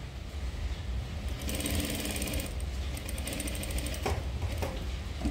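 A domestic sewing machine stitches a paithani saree blouse with a boat-neck design, a quiet, rapid, even mechanical whirring and ticking that keeps a steady rhythm with no talking.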